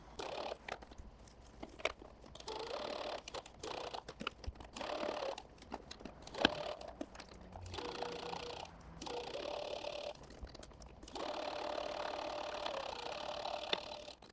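Overlocker serger stitching a fabric seam, with bursts of fast mechanical whirring separated by short pauses, fairly quiet and close, with no talking.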